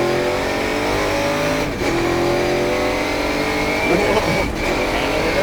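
A race car at an SVRA vintage race roars steadily at high revs as it heads down toward turn 11, loud and sustained with brief dips as it shifts, no talk.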